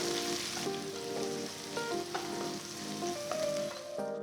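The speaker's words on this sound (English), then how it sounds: "Sauté well until the onions become soft and slightly caramelized." Onions, garlic and green chilies sautéing in a pan for a brinjal and lobia curry, a steady close sizzle with faint stirring and no one speaking.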